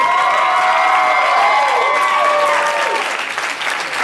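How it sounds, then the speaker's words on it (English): Loud crowd applause with cheering for the champion of a stand-up comedy joke-off contest, a thick sustained roar of clapping and whoops that eases slightly toward the end. "Let's applaud our champion"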